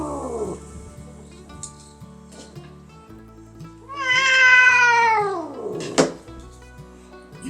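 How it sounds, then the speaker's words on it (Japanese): A stray cat meows loudly and close by, one long drawn-out rising-then-falling meow standing alone, preceded by a few softer short sounds. "今にゃーんに近かったな。"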